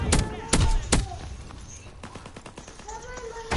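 In a World War II video game, sharp blasts and gunfire crackle nearby, with several loud bangs early and scattered shots afterward, mixed with voices talking.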